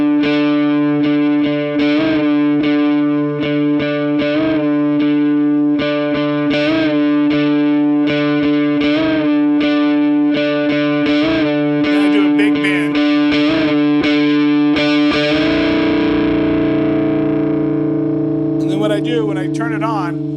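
Heavily distorted electric guitar plays a riff on two strings together with a bend on the lower one, repeated choppy stabs ringing over sustained drone, then a longer held, wavering bend; a voice speaks at times.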